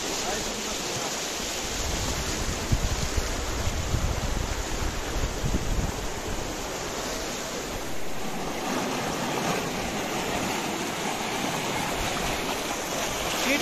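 Ice-cold mountain stream water in Kalam Valley rushes steadily and loudly nearby, a continuous broadband roar with no pauses.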